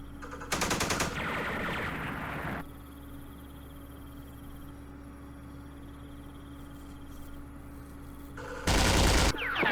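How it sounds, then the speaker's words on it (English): Machine gun fire from the Vietnam War strategy game Campaign Series Vietnam, fought at Lam Son 719, comes in two loud rattling bursts, one near the start and a shorter one at the end, over a steady low hum. "There's a machine gun there."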